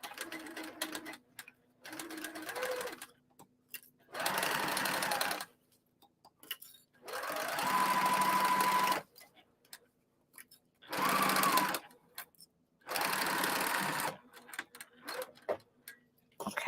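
A sewing machine stitches the fabric of a bag's exterior, running in several separate bursts of one to two seconds each with short quiet pauses between them, close and steady.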